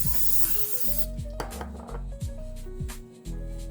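A hissing burst of palm oil cooking spray for about a second onto a baking sheet, followed by a few metallic clanks and scrapes of the sheet.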